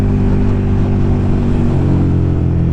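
A 2017 KTM 1290 Super Duke R with its 1290cc LC8 V-twin rumbles loud and close at a steady engine speed. The deep throbbing drone barely changes across the few seconds.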